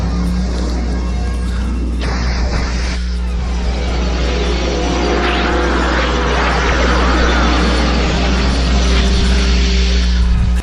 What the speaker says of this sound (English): start the engine, and away we go